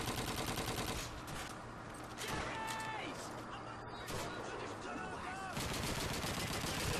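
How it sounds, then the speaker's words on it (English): Machine gun fire in the World War II shooter Call of Duty 2, with dense rapid bursts of gunfire and explosive cracks filling the scene, mixed with in-game voices and battle noise. "Let's use every machine gun you can find on the level."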